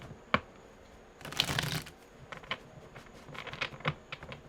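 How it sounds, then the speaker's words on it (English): Tarot cards being shuffled in quick riffling bursts, with one long flurry in the middle and shorter snaps around it, close and fairly quiet. "Let's get 2 more shuffles."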